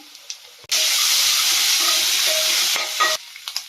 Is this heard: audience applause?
no